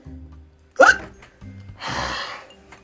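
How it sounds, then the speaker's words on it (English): A cartoon character gives one sharp, sudden hiccup with a gasping catch, followed by a brief burst of noise over a quiet, tonal background. "You have the hiccups, right?"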